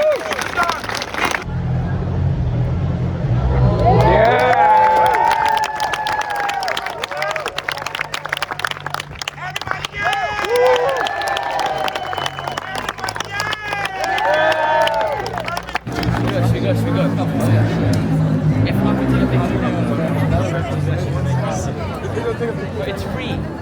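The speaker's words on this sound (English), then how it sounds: "Everybody clap again." A festival crowd at an Edinburgh Fringe street show claps and cheers loudly, a dense wash of applause and whoops with voices calling out over it throughout.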